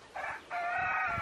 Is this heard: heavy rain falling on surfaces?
no